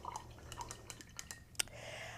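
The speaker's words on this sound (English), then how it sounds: "So I'm gonna rinse all the black out of my brush." A paintbrush swished and rinsed in a cup of water during watercolor painting, giving soft intermittent drips and small sharp taps against the cup, faint and close, with no talking.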